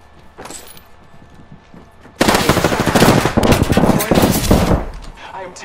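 Machine gun fire in the video game Apex Legends: after a quiet start, rapid bursts of automatic gunfire break out loudly and continue in dense volleys, with brief gaps.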